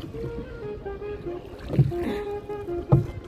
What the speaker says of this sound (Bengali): নৌকা বাইচ করলাম যে, আমি হইলাম মাঝি আর কি